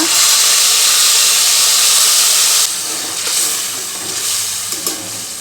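Tamarind juice hits a hot tempering of curry leaves in oil, letting out a loud, steady steam hiss that cuts off abruptly halfway and drops to a softer, uneven sizzle.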